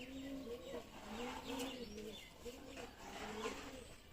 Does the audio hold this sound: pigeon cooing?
yes